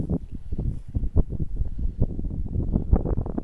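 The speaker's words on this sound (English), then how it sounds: "Not super cool is the wind." Wind gusts buffet an outdoor microphone on a fishing trip after a thunderstorm, producing low, irregular rumbling thumps that pulse throughout without pause.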